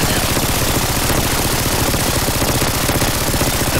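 Rapid, nonstop automatic gunfire from the video game New Age Soldier, played with infinite ammo, a dense, loud mechanical rattle that runs unbroken throughout.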